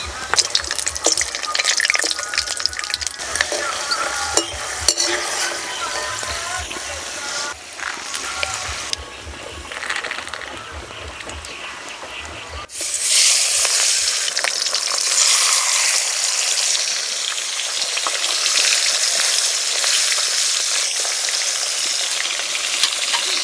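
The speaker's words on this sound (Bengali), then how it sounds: "এবার কটা চিনি বাদাম ভেজে নেব।" Peanuts fry in mustard oil in a wok, giving a steady crackling sizzle that grows louder and denser halfway through, with faint stirring scrapes and no voices.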